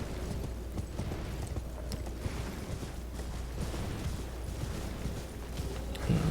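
A galloping horse in Elden Ring, its hooves pounding a steady, rapid clip-clop rhythm that continues unbroken throughout, close and moderately loud over a low background rumble.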